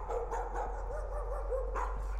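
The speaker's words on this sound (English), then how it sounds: "I hear a dog now." A dog in the horror game Layers of Fear barks and yips in short bursts, several distressed barks with whimpery tones over a low rumbling ambience.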